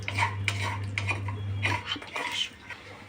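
Tempering seeds stirred in hot oil in a pan while making Karnataka-style menthi rice, giving a run of close metallic spoon scrapes and clinks against the pan, with a steady low hum underneath for the first half.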